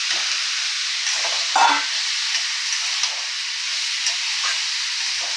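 Potatoes sizzling and frying in a pan while cooking mochar ghonto, a steady loud hiss of hot oil with a brief louder crackle as the pieces settle, no voices.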